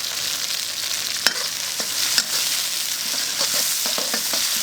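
Chopped millet chili peppers stir-fried in a wok alongside garlic and pork liver, a bright steady sizzle broken by a few sharp scrapes and clatters of the spatula, close up with no voices.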